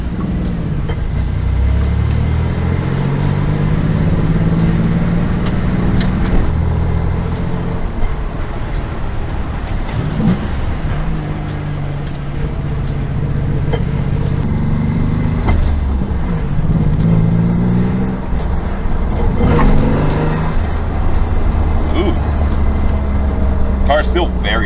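A 1986 Mazda car drives laps on a test drive, its steady engine and road drone continuous and close throughout, rising and falling through gear changes, with people talking over it.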